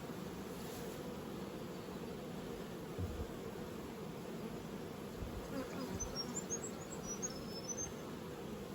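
Honeybees buzzing in an open hive during spring inspection, a steady dense drone throughout with faint individual bees passing close, no talk.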